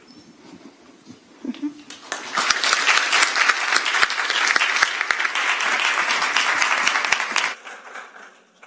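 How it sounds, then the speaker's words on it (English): An audience at an early education innovation challenge event breaks into loud, sustained applause for presenters, building after a quiet moment of faint talk and fading out after several seconds. "Can we have a big round of applause for the idea presenters?"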